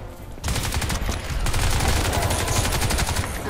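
Rapid automatic gunfire from Crysis 2, a dense loud burst of closely spaced shots continuing for several seconds.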